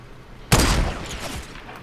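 A sudden loud burst of gunfire in Fortnite, with a sharp onset and a rough rumbling tail that fades over about a second, up close and with no talk.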